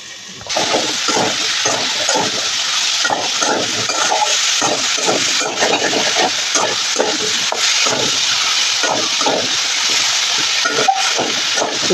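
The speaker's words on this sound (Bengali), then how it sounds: "যার কারণে আগে আমি সবজিগুলোকে ভেজে নেবো, তারপরে পুঁই শাক যোগ করবো" Vegetables for a Malabar spinach chorchori fry in hot oil, giving a loud, steady sizzle close by, with rhythmic scraping pulses from stirring running throughout.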